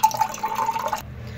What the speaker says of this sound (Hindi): अब हम इसमें डाल लेंगे ठंडा सादा पानी,